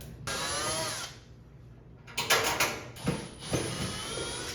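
A power drill whirs in short bursts as it backs mounting screws out of the side of a dishwasher during installation. The close, loud runs are separated by brief pauses.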